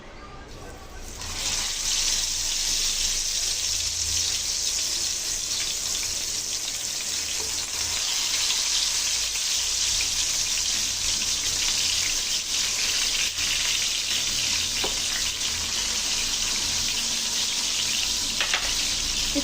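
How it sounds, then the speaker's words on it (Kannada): Spicy bangada mackerel sizzles in hot oil on a tawa, a loud, continuous crackling fry that stays close and steady throughout. "ಮೀನು ಚೆನ್ನಾಗಿ ಆಲ್ರೆಡಿ ಫ್ರೈ ಆಗ್ತಾ ಇದೆ"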